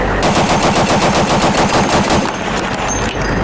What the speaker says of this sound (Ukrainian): Відвоювати допомагає і такий броньований хамер, на якому встановлений американський кулемет Браунінг.